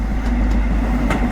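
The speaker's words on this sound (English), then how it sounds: "Another HST 125 arriving at York Station with Virgin Trains East Coast service to" An HST 125 high-speed train arrives at York station, its loud, steady rumble and rolling rail noise continuing throughout with faint rhythmic clicks of wheels over track joints.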